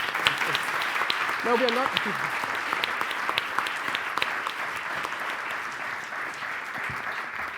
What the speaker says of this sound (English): This is the applause for Jan's program on how to engage the youth